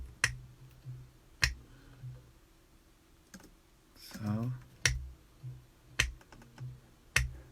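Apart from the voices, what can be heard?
finger snaps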